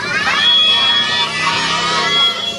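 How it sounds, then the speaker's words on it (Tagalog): Children at a birthday party shout and cheer together in a loud, excited crowd roar that swells and fades, with scattered voices mixed into the noise. "palakpak naman natin si Joris"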